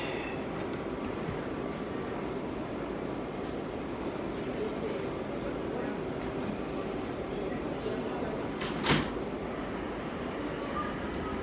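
A Number 7 subway train at Woodside, Queens, with steady loud rumble and clatter throughout, a brief sharp burst near the end as the doors close.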